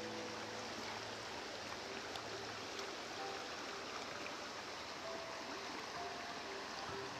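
White Oak Creek near Archbald runs in a steady, full rushing wash of flowing water, continuous and close with no break, and no voices.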